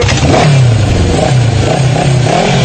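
A high-powered motorcycle engine in a film revs loudly and continuously, its pitch rising and falling in repeated surges with no talk over it.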